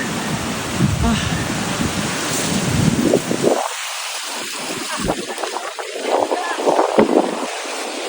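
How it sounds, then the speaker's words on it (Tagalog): Strong waves surge and rush at a flooded seaside outing in the Philippines, with heavy wind buffeting the microphone, while a person gives a short exclamation. "Ang lakas ng alon."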